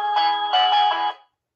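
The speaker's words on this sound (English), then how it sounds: "the alarm can get really loud on this one" A loud electronic alarm rings in a steady buzzing tone for about a second, then cuts off abruptly into silence.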